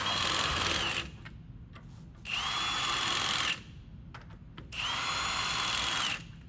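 Power tool spinning nuts down onto threaded studs in three loud bursts of a couple of seconds each, with quieter gaps between runs.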